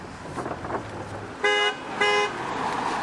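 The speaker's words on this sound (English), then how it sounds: "Oh, he already honked." A car horn honks twice in short, loud bursts by the roadside, each lasting about a quarter second, with passing traffic noise in between.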